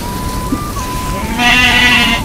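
A sheep bleats close by, loud and wavering for about a second, with quieter outdoor sounds before it.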